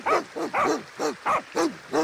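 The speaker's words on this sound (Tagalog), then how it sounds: "may aso na naman" A dog barks in a steady series of about seven sharp, close, loud yaps at regular intervals, with no talk over them.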